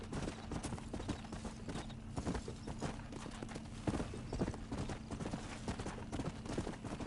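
Horse hooves clip-clop in a steady, quick gait in the Western video game Red Dead Redemption, a moderately quiet rhythmic trot continuing throughout with no talking.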